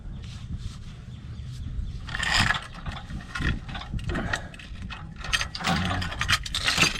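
A come-along ratchet is worked by hand during a cabover truck clutch replacement, giving a run of sharp metallic clicks and pawl ratcheting in uneven bursts, fairly close and loud over a low background rumble.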